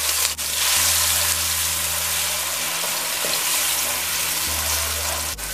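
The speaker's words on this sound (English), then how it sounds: "To that I'm going to add grind garlic, wiri pepper, and onion" Steady sizzling of ground garlic, wiri pepper and onion frying in hot oil, a dense crackling hiss that continues throughout with a low background hum.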